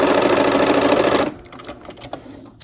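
A sewing machine stitches the last seam of a quilt border block, a loud, rapid mechanical whir running close for just over a second before stopping abruptly, followed by faint handling clicks and rustles.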